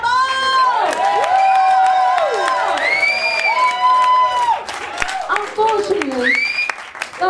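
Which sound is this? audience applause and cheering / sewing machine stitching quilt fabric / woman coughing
audience applause and cheering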